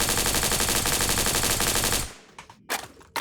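Rapid machine gun fire from the shooter game Project Speedkills, a tight fast burst of evenly spaced shots for about two seconds, then a pause and a few separate trailing shots.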